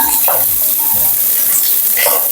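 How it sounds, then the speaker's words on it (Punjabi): Onion and garlic hit hot oil in a pan and sizzle loudly and continuously up close, with a few light stirring scrapes and no clear talking. "ਤੇਲ ਜਿਹੜਾ ਗਰਮ ਹੋ ਚੁੱਕਿਆ ਹੈ ਇਹਦੇ ਵਿੱਚ ਮੈਂ ਪਾਉਂਗੀ ਪਹਿਲਾਂ ਪਿਆਜ਼"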